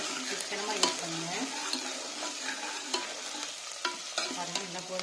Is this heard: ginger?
yes